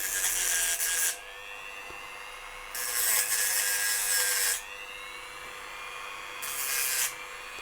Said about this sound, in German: und dann nehme ich mir meinen Dremel